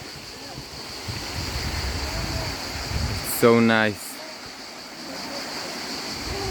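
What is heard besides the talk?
waterfall on a Greek island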